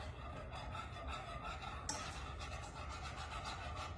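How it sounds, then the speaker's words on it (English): Quiet, steady scraping of a whisk stirring hot chocolate ingredients in a pot on the stovetop, a continuous soft rasp with a faint clink partway through. "we're gonna add those and whisk those up"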